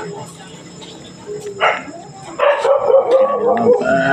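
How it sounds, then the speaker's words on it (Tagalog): Dogs bark and yip in short bursts, some sounding farther off, amid a faint background murmur. "Ayan na naman ng mga aso, nakasabay."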